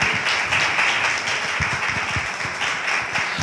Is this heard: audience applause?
yes